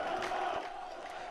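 Murmuring crowd noise from a massive gathering at Palestinian funerals, a steady dense wash of many voices with a brief rising shout, heard at moderate distance.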